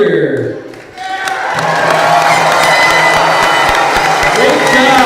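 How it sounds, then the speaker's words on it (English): A large crowd of Hawaiʻi Air National Guard squadron members lets out one big group cheer at an awards ceremony, loud sustained shouting and whooping that swells after a brief lull and holds steady to the end. "how about one big group cheer?"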